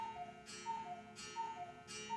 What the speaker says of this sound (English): That's my cuckoo clock.